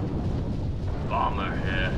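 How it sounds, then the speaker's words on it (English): An artillery bombardment fires in a Halo-themed strategy game mod, heard as a steady, heavy low rumble of barrage with a brief tonal voice-like sound rising over it midway. "Target locked. Firing for effect."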